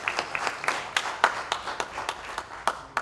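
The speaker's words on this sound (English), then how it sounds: "Please, a round of applause." Sparse applause from a small audience at a University of Lagos event, distinct individual claps landing in a loose, uneven rhythm, fairly close and clear with no talk over them.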